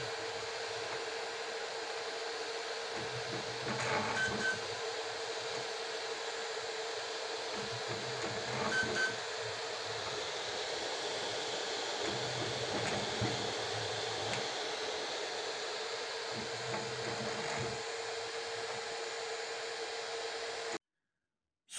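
An FLsun SR delta 3D printer runs mid-print with a steady fan-like whir, plus faint periodic motor sweeps and ticks from moving parts, continuous and fairly quiet until it cuts off at the end.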